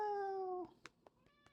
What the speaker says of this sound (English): This is my cat.